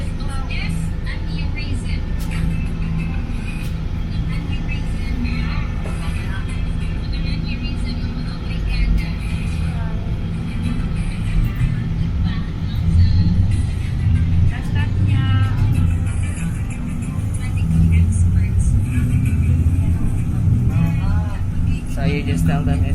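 A city bus carries passengers along Cebu streets, its engine rumbling steadily with road noise and passing traffic around it, while voices talk over the ride throughout.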